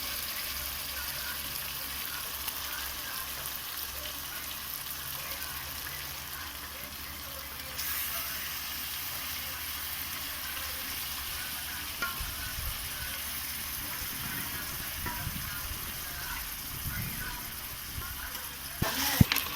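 Chicken pieces sautéing in a pan for Chettinad chicken curry, a steady moderate sizzle with occasional scrapes and knocks of stirring near the end, with no one speaking.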